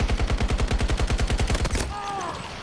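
Rapid automatic gunfire rattles in a fast, even burst for nearly two seconds, aimed at an attack chopper in Battlefield 2042, then cuts off, leaving a faint whine and background game noise.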